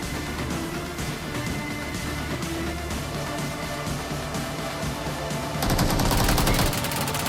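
Automatic gunfire in PUBG, sustained rapid bursts of weapon fire across the whole stretch, loud and close, rising to a harsher, denser volley near the end.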